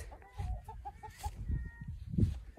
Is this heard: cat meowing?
no